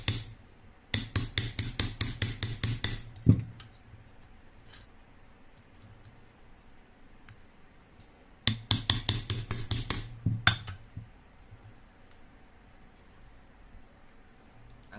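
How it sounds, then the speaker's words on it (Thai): Metal tapping as a socket is hammered to drive a bearing into a Toyota Avanza 1.3 alternator: two fast bursts of sharp, ringing hammer strikes, about a dozen each, close and loud with quiet gaps between. "จากที่ใช้ลูกบล็อกเบอร์ใหญ่นะครับ ตอกลงไปแล้วนะครับ"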